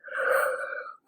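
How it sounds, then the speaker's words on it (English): A person yawns, a single drawn-out voiced breath of about a second that rises and then fades, heard alone. "Why is this dude yawning so much?"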